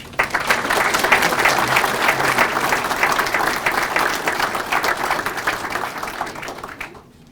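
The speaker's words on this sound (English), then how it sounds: "Let's hear another round of applause." Sustained applause from the audience at a ceremony swearing in a new fire chief and firefighters, steady and dense for about seven seconds before cutting off sharply at the end.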